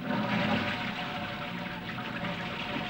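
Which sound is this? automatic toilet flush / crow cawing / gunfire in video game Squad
automatic toilet flush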